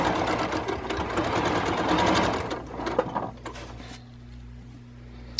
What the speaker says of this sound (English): this is where she's sewing the ends down to finish the ends and make the casing for the elastic